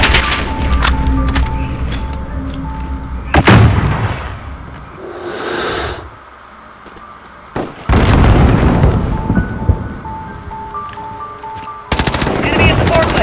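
Machine-gun bursts and explosions from the Modern Warfare video game, loud and close, firing in repeated clusters with a quieter lull midway, while voices call out over the combat.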